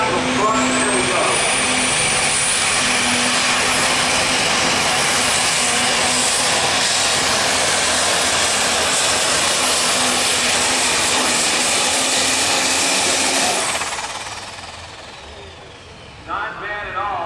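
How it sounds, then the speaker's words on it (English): A super stock diesel truck at a diesel drag racing event roars past at full throttle, a loud sustained engine blare lasting many seconds before it drops off sharply and fades into quieter background noise. "All right, here we go back to super stock diesel truck."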